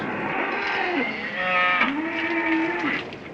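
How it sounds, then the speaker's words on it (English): Several cattle lowing in long, drawn-out moos at night, one call after another with overlapping voices, fairly close and steady, no talk over them. "The cattle are getting restless."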